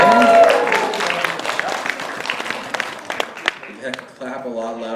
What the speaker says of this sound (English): Clap a lot louder than that